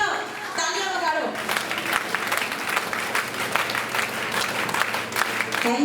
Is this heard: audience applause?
yes